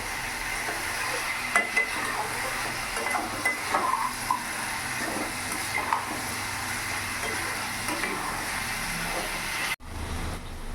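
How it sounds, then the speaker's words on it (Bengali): Silver carp curry with potato and cauliflower being stir-fried in a pan, giving a steady sizzle with scattered scraping and stirring clicks throughout, ending abruptly near the close. "এবার সব কিছুর সাথে আমি ভালো করে কিছুক্ষণ আমি কষিয়ে নেব"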